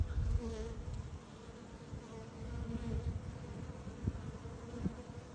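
Honey bees at an open hive make a dense, continuous low buzzing close up, with individual bees droning past now and then and no talking.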